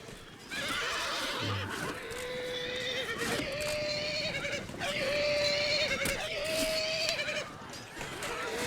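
Horse archers' horses in the Shogun Total War battle game whinny repeatedly over a busy bed of hoofbeats and battle noise, loud and close, with some faint voices mixed in.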